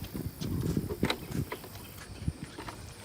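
A horse's hooves clip-clop in a few soft, uneven steps at a fair, fairly close but faint, with light handling noise around them.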